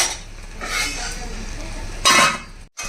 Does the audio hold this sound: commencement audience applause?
no